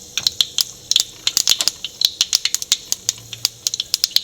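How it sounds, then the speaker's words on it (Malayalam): Mustard seeds pop and crackle in hot oil in a pan, a fast, irregular run of sharp, close snaps over a faint sizzle. "കടുക് പൊട്ടിയിട്ടുണ്ട്."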